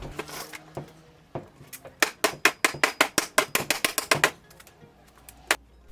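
A metal bearing housing is hammered into place for a custom upright on a VR6-powered 205 prototype, on a workbench: a fast run of about fifteen sharp, loud hammer blows in steady rhythm, after a few scattered knocks and before one final strike.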